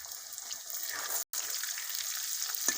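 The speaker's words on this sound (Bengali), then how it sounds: "আলুটা লাল করে ভেজে নেব" Potatoes fry in oil until browned, making a continuous close hiss of sizzling with a faint bubbling texture. A single abrupt dropout cuts the sizzle briefly partway through.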